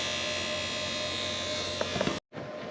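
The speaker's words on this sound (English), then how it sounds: "I'm just going to cut a piece of angle and shape it" Power tool cutting and shaping a piece of metal angle for a bracket during a VW 1.9 TDI engine swap into a Honda Civic, a steady buzzing whine that stops abruptly, then quickly starts up again.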